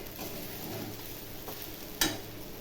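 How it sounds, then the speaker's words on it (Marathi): Sabudana khichdi being sautéed in a pan, a soft continuous sizzle with faint scraping stirs and one sharp clink of a spoon against the pan near the end, quiet and close. "साबुदाणा चांगला परतून घ्यायचा"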